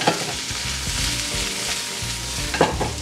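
Onion frying in plenty of oil over high heat, a loud continuous sizzle with occasional stirring scrapes, close and steady without talk.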